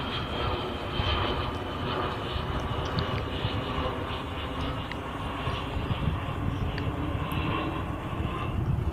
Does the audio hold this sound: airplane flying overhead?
yes